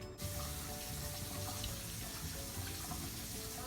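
A cup of water pours steadily into a pan of peach pie filling made with sugar and cornstarch, a continuous close splashing rush lasting the whole stretch with no talk over it.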